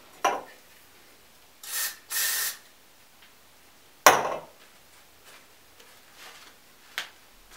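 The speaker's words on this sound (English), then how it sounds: "and hairspray it" Hairspray sprayed onto teased hair while styling for a cheer competition: two short close hissing bursts, the second longer, with small rustles and taps of handling around them and no talking.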